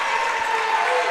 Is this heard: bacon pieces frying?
no